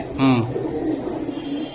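A single soft, throaty coo from Girbaz high-flying pigeons in Old Dhaka's Lalbagh, heard close and briefly with a voice talking around it.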